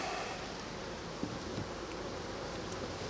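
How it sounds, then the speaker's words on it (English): Honeybees buzzing around an open hive during a June inspection: a steady, dense hum from many bees, close and continuous, with a faint rustle or two. "So, these bees are super chilled."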